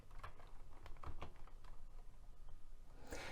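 Keys tapped on a computer keyboard while entering a search, a quiet run of irregular clicks with short pauses and a louder clatter at the end.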